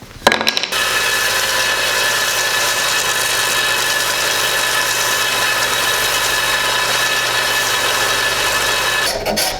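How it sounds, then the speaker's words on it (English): A belt sander runs steadily on a hickory board bow, flattening and straightening its sides, a loud continuous whir with abrasive hiss that starts abruptly and holds for about nine seconds before cutting off at the end. "with the belt sander, flatten these sides off, try and make it nice and straight"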